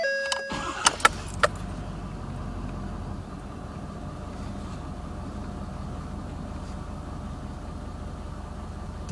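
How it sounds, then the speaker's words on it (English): Ford 6.7L diesel engine with low oil pressure on start idles with a steady low rumble after a few short clicks and clunks at the start, running on evenly and close by with no voices. "I'm going to shut off the engine"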